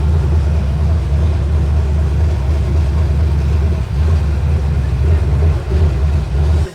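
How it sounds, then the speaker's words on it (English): A Chevy K10 truck with a Summit Racing 350 crate motor idling close by with no exhaust fitted, a loud, steady low rumble with a slightly choppy pulse. "we tossed in a beautiful Summit Racing crate motor that's just your good old 350. But this thing's got a nice chop to it."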